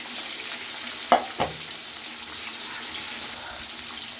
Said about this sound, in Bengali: আমার এক পিস মাছটা ভাজা হয়ে গেছে